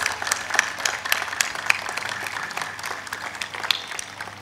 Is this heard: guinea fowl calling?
no